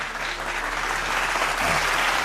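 A short burst of clapping from a small group in a radio studio, steady and fairly close, with no talking.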